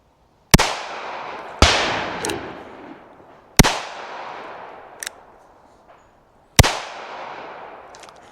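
Four sharp, loud gunshots from a North American Arms mini revolver fired with two hands, spaced about a second to three seconds apart, each leaving a long ringing decay in an open space.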